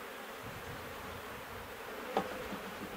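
Bees hum inside a hive of nectar- and honey-filled comb, giving a steady close drone with one brief click partway through.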